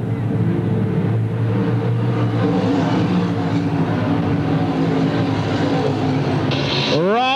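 Modified four-cylinder race cars at a 1994 Cherokee Speedway event make a steady, loud engine drone, with one car sweeping past near the end under a faint announcer's voice.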